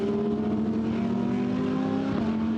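A Singer Beer Ferrari GT3 race car crossing the finish line in a Blancpain GT Series Sprint Cup race, its engine droning steadily at high revs with a sustained tonal whine, close and loud.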